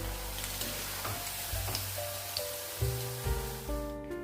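Cauliflower florets frying in oil to a light brown for a dhaba-style gobhi aloo dry dish, a steady close sizzle broken by a few louder clanks and stirring bumps, with no talking.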